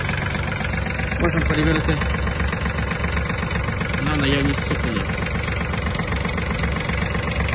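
A Yanmar EF-222 Japanese mini tractor's engine idles steadily and continuously nearby, its low chugging running throughout while someone talks over it.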